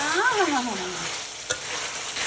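Mutton curry sizzles in a pan as it is stirred and sautéed, with a close scraping spoon, a steady frying crackle and one sharp knock.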